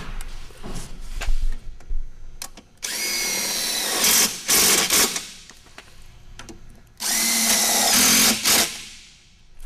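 A power drill drives screws into a desiccant dehumidification cassette, heard as two loud, sustained whirring bursts of a couple of seconds each, with quieter handling clatter before and between them.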